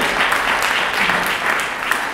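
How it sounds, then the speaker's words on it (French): Steady audience applause for a speaker at an overseas-territories business and innovation conference, a dense, even wash of clapping from a large room. "c'est Luc Laventure, que vous pouvez applaudir"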